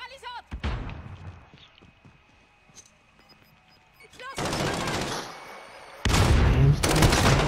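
Machine gun fire in the video game Warzone, coming as two loud sustained bursts of rapid shots after quieter scattered game sounds and footsteps, with players talking over parts of it.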